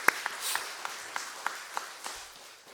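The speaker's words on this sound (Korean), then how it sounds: "우리 축복의 박수 한번 보내주시겠습니다." Sparse, scattered clapping from a church congregation at a Sunday service, a handful of distinct claps spaced out in an irregular rhythm, fairly quiet and somewhat distant.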